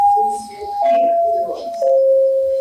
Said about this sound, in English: Hit the chimes, yo.